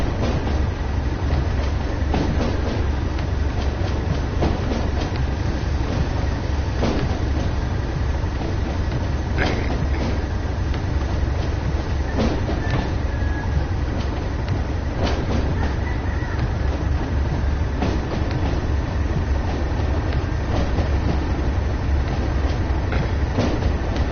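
A train runs along the track in the Train Sim World 2020 video game, with a loud, steady rumble and regular clickety-clack wheel beats over a continuous mechanical drone.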